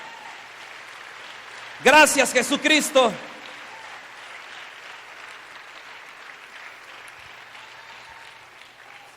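Congregation applauding at a Spanish-language church service, a short burst of loud clapping lasting about a second, then a quieter stretch with a voice speaking.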